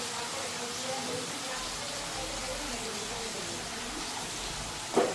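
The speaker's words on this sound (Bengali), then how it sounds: "ওই যে বেগুন ভাজুন" Eggplant fries in oil in a pan, a steady close sizzling hiss that holds through with a brief louder clatter near the end, with faint voices in the background.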